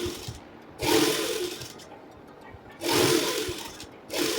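A sewing machine stitches a double-folded hem on a strip of fabric for an angrakha top, running in about three short bursts of fast mechanical whirring with quieter pauses between.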